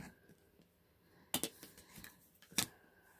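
Fabric being cut along a straight ruler for a Dresden plate quilt block: a quiet room, then two short crisp bursts of cutting noise, the second slightly louder, with soft handling rustles between.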